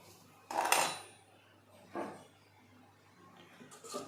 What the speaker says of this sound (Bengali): এবার এর মধ্যে আমি কিছুটা পরিমাণ হলুদ গুঁড়ো মিশিয়ে নেব।